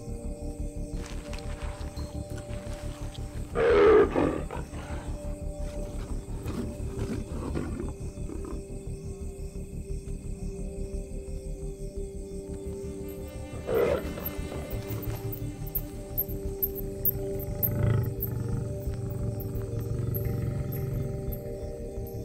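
A lioness growls and roars at night in the African wild, with a few deep, rumbling bursts spread apart over a low background hum.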